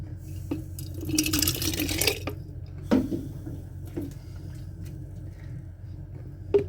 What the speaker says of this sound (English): Just splashing this everywhere.